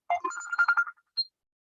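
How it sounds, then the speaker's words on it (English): A mobile phone ringtone for an incoming call plays a short bright electronic melody of quick tones, then a brief final chime, loud and close with no talking. "phone call. Somebody is calling."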